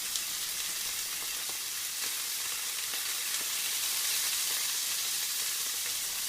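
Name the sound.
steaks frying in a skillet on medium-high heat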